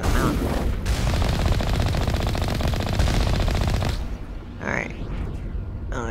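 Rapid automatic gunfire in the Mass Effect video game at a geth base, a loud continuous burst for about four seconds, then a lull with scattered shots and energy effects.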